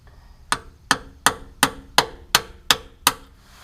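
Eight sharp, evenly spaced metallic strikes as a punch is hammered into the oil filter of a 7.3 Powerstroke to drain it. The blows ring loud and close against a quiet background.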